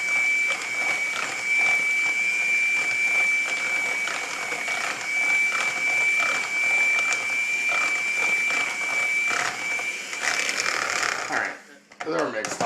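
Lemon zest is mixed into batter in a bowl, giving a steady high mechanical whine with a rapid rattling texture that runs continuously before stopping near the end.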